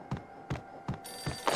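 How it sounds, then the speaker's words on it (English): A telephone rings in the Max Payne video game with four evenly spaced, close, clear rings, and a brighter electronic tone joins the last two. "answer the phone"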